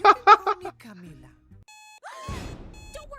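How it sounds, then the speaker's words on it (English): Cartoon dialogue from an episode of The Owl House gives way to a red alert alarm: steady electronic tones that repeat, mixed with sweeping synthetic sounds and a rumbling burst. "there's a reason why that alarm is used for, like, red alert mode"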